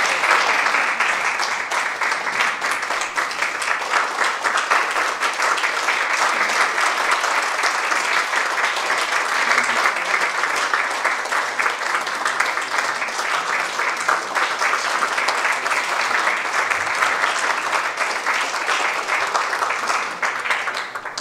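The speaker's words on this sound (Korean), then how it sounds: "경례의 박수, 축하의 박수 해주시면 감사하겠습니다." A church congregation applauds in congratulation at an ordination service marking a Korean church's 38th founding anniversary, with steady, dense clapping sustained evenly and loudly throughout, with no pauses.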